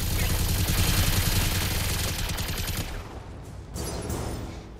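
Weapon fire in the BattleTech game as a dense, sustained barrage of rapid gunshots and explosions that fades into scattered impacts, loud and close with a voice briefly present.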